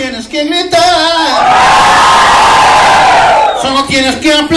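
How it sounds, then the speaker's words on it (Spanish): A crowd at a worship concert yells and cheers in a loud sustained roar, rising after a sung line and fading back as singing returns at the end. "Solo tienes que gritar."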